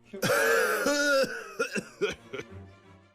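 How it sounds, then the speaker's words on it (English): A series of hoarse coughs and throat clearing, close and loud, in several short bursts followed by a fainter rasping breath. "How long have you had that cough?"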